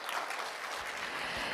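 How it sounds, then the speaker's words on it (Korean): Audience applause after a student's presentation at the 2025 Yeongwol education development forum: a steady, dense clapping from a full room, sustained evenly with no voices over it. "여러분 다시 한번 큰 박수 부탁드립니다"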